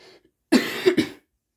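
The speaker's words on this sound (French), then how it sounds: "Je suis désolée de tousser, mais je suis malade" A woman who is ill coughs once, a short harsh burst of two or three quick pulses, close and fairly loud, followed by silence.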